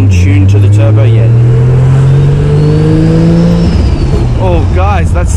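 Engine of a MK4 Toyota Supra JZA80 with a 2JZ-GTE and Pulsar G35 1050 turbo, loud and close while driving, its tone climbing steadily before easing off, with someone talking over it near the start and end.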